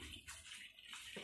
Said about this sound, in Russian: у меня вытечет остаток воды